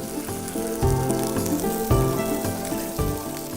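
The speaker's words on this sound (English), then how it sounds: "you can already hear that searing and sizzling away" Chicken pieces sear in a hot pan on a waterside outdoor cookout with a Mediterranean chicken dish, giving a continuous loud crackling sizzle with popping spatters and no voices.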